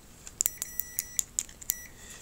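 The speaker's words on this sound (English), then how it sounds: "when I put my multimeter in a short, that is continuity" A multimeter's continuity tester beeps while probing shorted diodes inside a Sony XBR X850E television. About eight short, thin, high beeps come at an uneven pace, fairly quiet and close, with nothing else heard.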